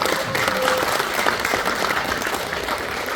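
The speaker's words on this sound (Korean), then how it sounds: "여러분들의 큰 박수로 개회를 시작하도록 하겠습니다" A hall audience breaks into sustained, dense applause at the opening of a national branch launch ceremony at a Seoul women's plaza art hall, loud and steady with no talk over it.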